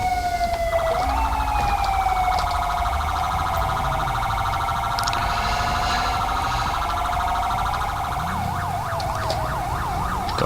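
Loud video game police car siren from LSPDFR wails steadily over engine noise, its pitch rising and falling, then switching to a rapid yelping pattern near the end.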